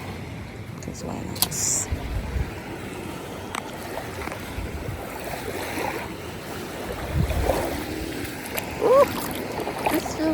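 Surf washes onto the beach at the Ocean Coral Spring resort in Jamaica, a soft, steady wash of waves and breeze with a person talking briefly over it.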